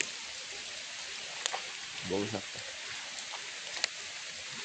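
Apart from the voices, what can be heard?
heavy rain at a temple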